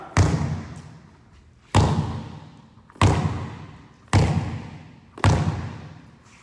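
A basketball thumps five times at a school court, each bounce a loud, close, dull thud spaced about a second apart and fading quickly, with no talking.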